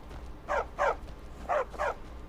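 Four sharp war dog barks from the video game The Elder Scrolls V: Skyrim, in two quick pairs, clear and fairly close, over a low steady hum.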